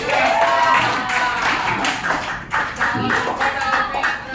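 A school class claps together after a poetry presentation, steady rapid hand clapping across the room for a few seconds, with some voices mixed in.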